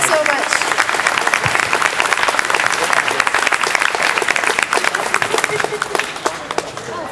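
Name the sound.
audience applause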